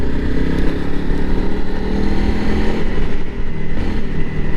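Fuel-injected single-cylinder engine of a 2021 Honda CRF300L Rally dual-sport motorcycle, giving a loud continuous throbbing drone at close range on a Northern California ride, with wind roar throughout.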